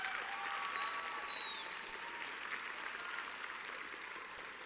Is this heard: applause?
yes